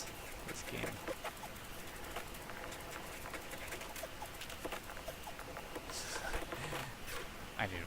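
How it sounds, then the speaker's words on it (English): Chicken clucking in the survival game 7 Days to Die, soft scattered clucks and bird calls under a constant bed of game ambience and noise, with someone talking over it. "Oh, chicken."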